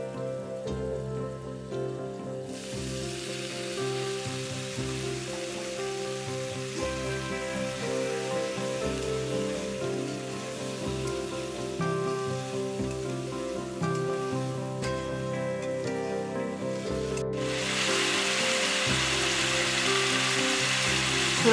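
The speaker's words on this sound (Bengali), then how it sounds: "আলুটা হালকা ভাজা হয়ে গেছে, এবার আমি এর মধ্যে কাবলি ছোলাটা দিয়ে দেবো।" Potatoes and boiled kabuli chickpeas sizzle steadily in a pan in a village-style Bengali kitchen, a continuous crackling fry with a tonal background running underneath.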